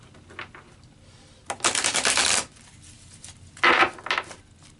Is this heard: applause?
no